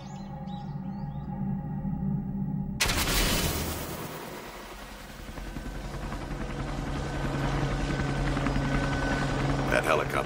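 A loud, steady helicopter rotor roar starts abruptly and keeps thudding at close range, with a faint voice heard beforehand.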